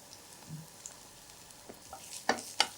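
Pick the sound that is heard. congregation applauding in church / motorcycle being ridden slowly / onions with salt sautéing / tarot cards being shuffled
onions with salt sautéing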